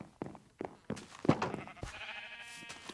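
Sheep bleat in the Minecraft video game, several short nasal calls in quick succession, fairly close and clear, with a faint bit of other game noise at the end.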